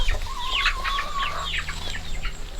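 Chickens clucking and squawking close by in a farmyard pen holding quail and a rooster, busy overlapping calls with a thin steady tone and low rumble underneath.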